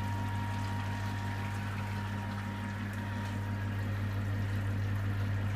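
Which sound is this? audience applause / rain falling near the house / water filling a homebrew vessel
water filling a homebrew vessel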